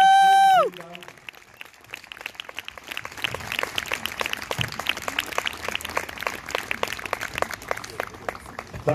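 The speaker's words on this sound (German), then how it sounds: "Angie Kerber, dein Applaus." An audience at an event in Wasserburg applauds to welcome tennis star Angelique Kerber, steady dense clapping that builds slightly and carries on throughout after a brief opening tone and voice.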